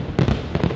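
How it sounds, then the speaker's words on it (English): New Year 2023 fireworks over Copacabana Beach in Rio de Janeiro, with two quick booming bursts close together, loud and crackling over the seafront crowd's din. "Fireworks along Copacabana Beach in the country's city of Rio de Janeiro."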